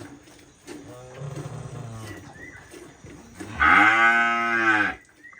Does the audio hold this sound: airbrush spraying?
no